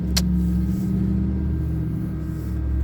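A GMC 4-ton central air conditioner with a three-blade fan and a large front compressor runs steadily, giving a loud, constant low hum and rumble close by, with a brief faint click near the start.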